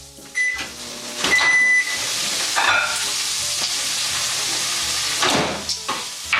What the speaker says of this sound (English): we're gonna heat this up in the microwave